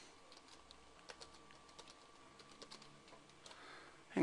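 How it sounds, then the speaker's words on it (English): Quiet clicks of someone typing a password on a computer keyboard, a short irregular run of soft keystrokes close to the microphone over faint room hum. "And you have to type in your password."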